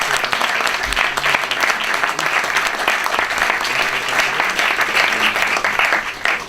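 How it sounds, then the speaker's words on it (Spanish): A strong burst of audience applause greets a politician introduced on stage at a live performance event, with dense, even clapping filling the whole stretch and no voices. "Un fuerte aplauso, por favor, el político"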